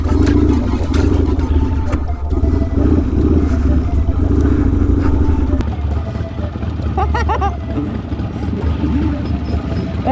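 Harley Cross motorcycles ride over loose gravel in a continuous close engine drone with crunching, clattering stones underneath, a voice briefly heard over the noise.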